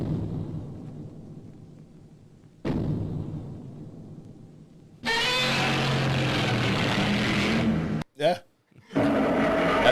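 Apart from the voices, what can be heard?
original 1954 Godzilla roar sound clip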